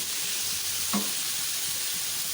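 Vegetables for macaroni sauté in a pan with a steady, soft, hissing sizzle, broken by a single light scrape of a spoon stirring, no talking.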